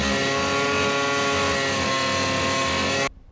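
A cut-off wheel slices through the steel floor of a 1993 Dodge Dakota truck to open a shifter hole. It gives a loud, sustained, high-pitched grinding whine that stops abruptly just after three seconds.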